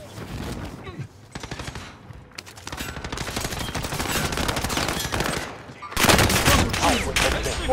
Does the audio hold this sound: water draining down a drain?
no